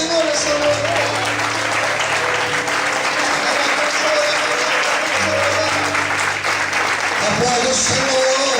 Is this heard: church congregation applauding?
yes